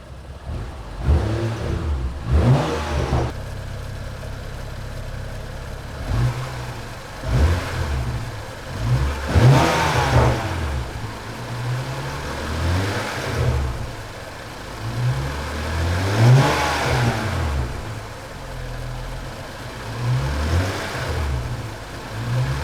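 A 2013 BMW 335i E92 with the N55 engine and its stock intake is revved repeatedly from idle, each rev swelling and falling back, close up and with no talking.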